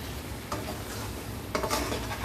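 A spoon scrapes and stirs chicken with tomato ketchup and spices in a pan, a faint low sizzle underneath with a couple of sharper utensil scrapes, no voices.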